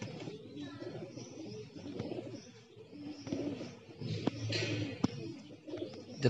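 Racing pigeons out in the rain give soft, intermittent coos and rustles at moderate distance, with a faint background voice and scattered sharper knocks.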